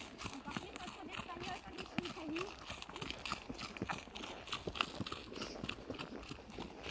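Horse hooves clip-clopping on the ground during a ride, a quick irregular patter of steps close by, mixed with chewing and rustling, with a person speaking over it.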